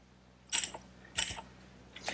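Carriage bolts being tightened on a wooden Adirondack chair, three short separate bursts of ratcheting metallic clicks, fairly close, with quiet gaps between them.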